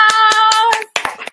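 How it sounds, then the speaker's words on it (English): Audience applause for a panel of young trailblazers on a talk show, a short spell of a few close, sharp hand claps over a sustained tone that then breaks off. "Everyone, please give these panelists a round of applause."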